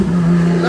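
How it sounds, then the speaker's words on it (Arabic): A Lamborghini Aventador accelerates past behind a Lamborghini Urus, giving a brief, loud, steady engine drone with a strong low tone and no voices. "سحل وراه اللامبورجيني، سحل افنتادور"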